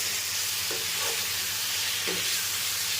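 Pointed gourd and potatoes frying together in a pan while being stirred, giving a steady close sizzle with soft scraping stirs and no voices.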